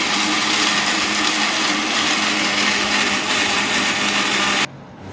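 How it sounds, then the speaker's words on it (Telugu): A mixer grinder blends golden fried onions into a paste for malai mutton, a loud continuous whirring roar filling the room until it abruptly cuts off near the end. "మిక్సీ జార్లోకి వేసేస్తున్నాం. ఇప్పుడు మనం పేస్ట్ పట్టేసుకుందాం."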